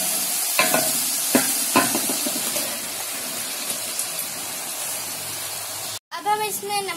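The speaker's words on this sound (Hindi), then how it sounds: "अब हम इसमें डालेंगे कीमा।" Minced meat (keema) sizzles in a pan with a steady frying hiss and a few scraping stirs, then a short pause before louder, bubbling sizzle resumes near the end.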